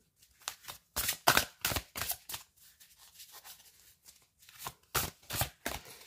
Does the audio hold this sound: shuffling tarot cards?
yes